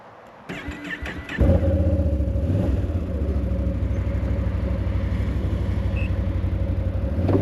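A Gen 3 XMR quad's engine starts rough, then settles into a loud, steady rumbling drone as the rider heads out for an evening ride by a lake, with brief revving early on.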